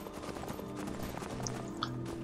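Horse hooves clip-clopping at a steady trot in Skyrim, a continuous moderate rhythm over a low game ambience.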